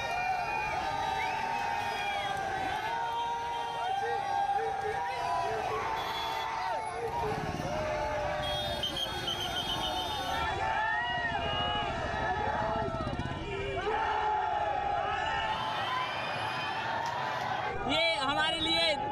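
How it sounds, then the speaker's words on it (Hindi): Street crowd celebrating India's T20 World Cup win in Sanskardhani, a continuous loud babble of many voices with shouting and cheering, steady throughout and close at hand. "सड़कों पर लोगों की भीड़ और जश्न को देखते हुए पुलिस भी गश्त करती रही।"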